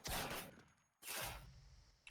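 Bursts of gunfire in a competitive first-person shooter match, two loud close volleys separated by a brief silence, ending in a sharp crack, with no talk.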